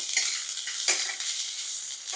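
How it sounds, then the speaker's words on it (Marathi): Two small, thinly sliced onions fry in a couple of spoonfuls of oil for an egg curry, a bright close sizzle with a few quick scraping stirs and no talking. "यामध्ये घालूया 2 कांदे. 2 छोटे कांदे घेतले, उभे पातळ चिरले. त्याला छान असं भाजायचं आहे."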